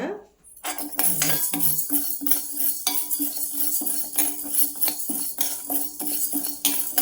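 Chana dal dry-roasting in a pan over a low flame, stirred with a metal utensil that scrapes and clinks steadily against the pan, close and fairly loud.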